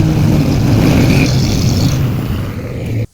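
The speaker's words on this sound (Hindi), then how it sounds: "चलो भाई, गाड़ियाँ निकल पड़ी हैं।" Cars and other vehicles pull away together for a house move, a steady loud engine drone with some revving that holds for about three seconds and then cuts off abruptly.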